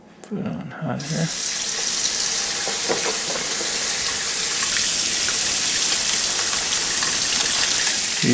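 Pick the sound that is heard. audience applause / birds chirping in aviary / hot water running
hot water running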